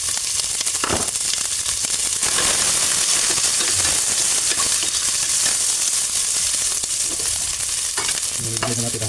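Onions fry in a hot pan for a laing dish, a loud, continuous sizzle and crackle with occasional scraping stirs and a faint knock near the end.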